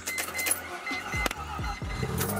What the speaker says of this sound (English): But you know, I gotta start my car.